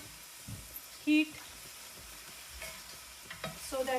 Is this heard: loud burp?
no